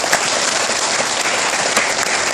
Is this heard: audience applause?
yes